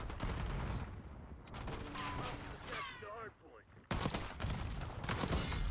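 Shotgun and other gunfire from a Call of Duty Black Ops 6 hardpoint match, loud repeated bursts with brief quieter gaps, mixed with game voice chatter and in-game callouts.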